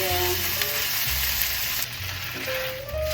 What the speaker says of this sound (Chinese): 先來把豆包煎成微焦